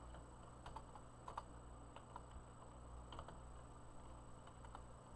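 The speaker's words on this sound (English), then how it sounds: "So let's type in John" Keys tapped on a computer keyboard entering names, a sparse run of light clicks at close range over a steady electrical hum, with no voices.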